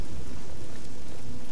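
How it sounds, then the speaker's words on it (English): Steady rain falls in the fantasy role-playing game The Elder Scrolls IV: Oblivion, a continuous soft hiss with low rumbling beneath, alone for a short stretch. "And it's raining again."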